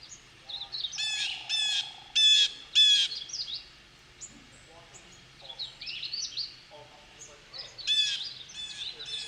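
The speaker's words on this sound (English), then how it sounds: "The next is the blue jay." Harsh, repeated blue jay calls ring out in short bursts amid other chirping birds outdoors, moderately close, with quiet background noise.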